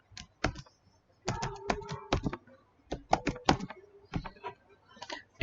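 A password is typed on a computer keyboard in irregular bursts of crisp, close key clicks separated by short pauses.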